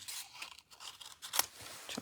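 Scissors snip quietly through cardstock in a few short, irregular cuts while the card is turned between snips, with a sharper closing snip near the end.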